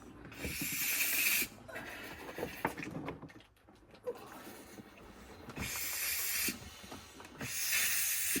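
Water spray hissing in bursts while rinsing a part of a John Deere GT225 garden tractor, starting and stopping several times with dripping and splashing in between, near and moderately loud.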